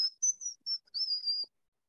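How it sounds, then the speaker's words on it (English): A person whistles a short tune as a happy birthday attempt in an English class, several clear high whistled notes in a brief phrase, then silence. "Can you whistle a happy birthday?"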